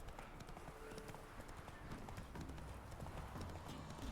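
Horse hooves clip-clop steadily in The Witcher 3: Wild Hunt while riding, a quick, even rhythm of soft thuds layered over dense game ambience.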